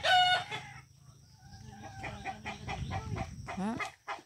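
Chickens on a farm cluck in scattered bursts, with a rooster crowing close and loud at the start and brief clucks and squawks following over faint ambient noise.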